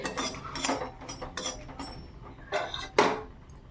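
Dry red chillies being stirred in a pan on a gas stove give off a string of metallic scrapes and clinks from the utensil against the pan, irregular and fairly close, with no talking.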